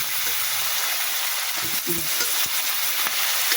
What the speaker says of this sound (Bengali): এবার আলু দিয়ে দিলাম। আলুগুলো ভাজা হবে, মানে ভাজবো